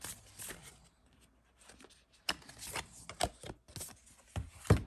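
Tarot cards shuffled by hand, a deck of unusually large, stiff cards, giving bursts of riffling and slapping with a few sharp taps close up, no talk over it.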